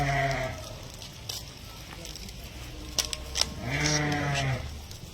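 Sheep in a flock of ewes and a ram bleat repeatedly, with two long wavering calls near the start and end and a few sharper sounds in between. Someone speaks at times over the animals.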